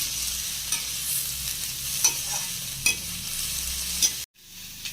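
Onion, ginger and garlic sauté in a pan with a steady close sizzle, broken by a few louder stirring scrapes, and the sizzle cuts out briefly near the end.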